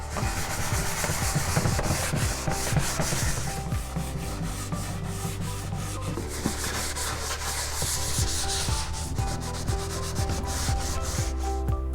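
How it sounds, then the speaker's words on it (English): Steady abrasive scratching of medium-grit sandpaper rubbing across wood, continuous and close, with a low mechanical hum running underneath throughout. "I'm going to use a medium grit. I'm going to sand this thing down."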